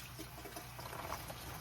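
Water pumped through pipes and a distribution manifold during a test run of a rust removal setup gives a steady, close liquid rush and trickle with some splashing, continuous throughout with no voices.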